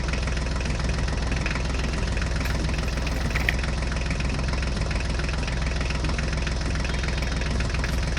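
A vehicle engine runs steadily and loudly throughout, with a constant low drone and a mechanical knocking vibration. No one speaks.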